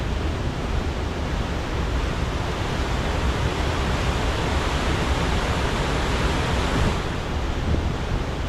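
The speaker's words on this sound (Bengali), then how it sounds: "যেখান থেকে জল ছাড়া হয় এবং জলের প্রচণ্ড বেগে যে জল পড়ছে সেটাকে দেখাবো" Water from the Maithon dam release pours out with great force, a steady, loud, broadband roar that stays constant throughout with no voices.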